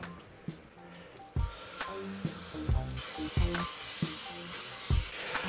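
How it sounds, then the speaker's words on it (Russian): Duck breasts fry skin-side down in a hot pan, giving a steady close crackling sizzle with repeated soft stirring and pressing knocks, no talk. "Грудки наши жарятся."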